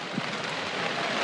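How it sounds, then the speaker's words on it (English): Steady rain falling on a dark, wet day at an outdoor country football grand final, a continuous broadband hiss with no distinct drops standing out and no voices. "Conditions are dark. It's raining."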